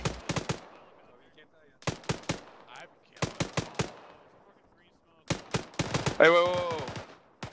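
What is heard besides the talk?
gunfire in the video game ArmA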